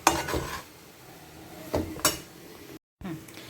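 Cabbage paratha ingredients are mixed with salt in a bowl, giving a few quiet, brief knocks and scrapes of a utensil against the bowl, separated by short pauses in a calm kitchen.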